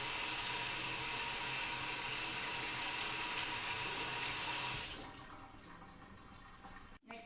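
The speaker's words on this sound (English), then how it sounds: "make sure that you wash your hands with soap and water" Water runs loudly and steadily from a tap as hands are washed with soap, a dense continuous rush. It cuts off abruptly partway through, leaving softer dripping and quiet handling sounds.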